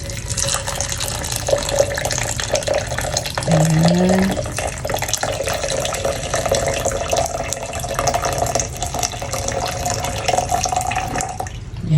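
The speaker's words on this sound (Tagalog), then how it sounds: "So, lagyan na natin siya ng mainit na tubig." Hot water pours into a cup for tea in a home kitchen, a steady splashing stream running the whole time at close range, with a brief spoken word over it.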